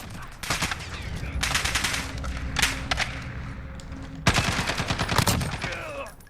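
SCAR-H CQC rifle firing 7.62x51mm NATO rounds in Call of Duty Modern Warfare, heard as loud bursts of rapid automatic fire in three separate volleys with brief pauses between them.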